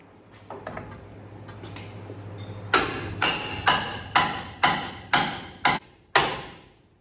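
A hammer strikes an old, long-stuck part under a square-body truck, first with several light taps and then with about eight hard, evenly spaced metallic blows, close and loud, with no talk.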